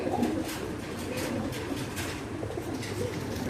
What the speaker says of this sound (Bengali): খুব সুন্দর ড্রাগন কবুতরটা